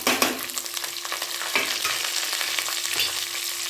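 Chopped onions and green chilies sauté in oil in a pan with a bright, steady sizzle, broken by occasional scrapes and knocks of a spoon stirring; no voices.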